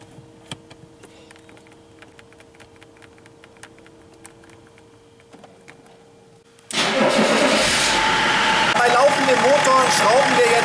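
A BMW diesel engine, under repair for a thermostat change, cranks and catches abruptly about two-thirds in, settling into a loud, rough idle after quiet faint clicks and handling noises.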